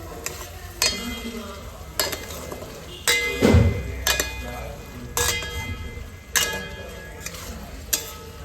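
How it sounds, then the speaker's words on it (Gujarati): Pasta ingredients sauté in a pan with a steady low sizzle, broken by regular sharp clinks of a spatula or spoon knocking the pan roughly once a second. "આ બધી વસ્તુને સાથે એકદમ પરફેક્ટલી આપણે સાંતળી દઈશું"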